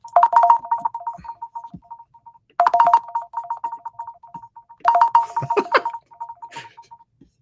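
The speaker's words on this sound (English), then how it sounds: "I have a phone call because I forgot to mute my call" Incoming-call ringtone from a phone that was left unmuted during a live broadcast, playing three loud, repeating bursts of bright electronic melody separated by short pauses, with no talking over it.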